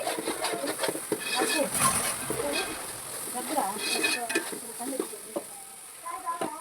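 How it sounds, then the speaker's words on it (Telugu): Prawn curry fries in oil in a pan and sizzles steadily while it is stirred with scraping clicks, and a person talks over it. "అడుగంటకుండా తిప్పుకోండి."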